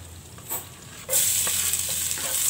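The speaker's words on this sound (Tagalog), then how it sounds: "Iprinito ko na lahat." Milkfish frying in a pan for bangus sarciado, a steady sizzle that jumps louder midway as it is stirred, with scraping strokes against the pan and no talking.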